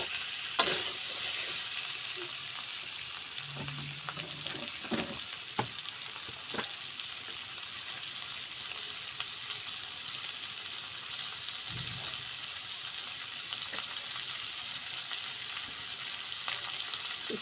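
Bottle gourd sautéing in a pan for a Bengali dish, a steady close sizzle and crackle of frying with occasional stirring scrapes, no voices.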